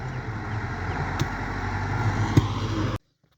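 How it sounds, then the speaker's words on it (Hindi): A tractor engine rumbles steadily nearby on a farm with low chugging and a couple of sharp clanks, then the sound cuts off abruptly. "ये ट्रैक्टर को गुज़रने दें, बहुत ज़्यादा शोर आ रहा है"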